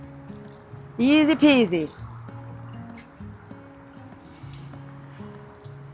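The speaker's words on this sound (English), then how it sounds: "So now we water it like this." Water poured over newly planted lettuce seeds in a garden bed, a brief trickling splash under a speaking voice, with soft dribbling continuing afterward.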